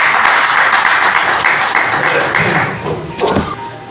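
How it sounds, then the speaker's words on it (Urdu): An audience at a Pakistan Writers Council literary gathering applauds steadily as the guest of honour, poet and critic Professor Dr Zia ul Hassan, is welcomed. A dense, sustained wash of clapping fills the hall and eases slightly toward the end. "آپ کی پرزور تالیوں میں."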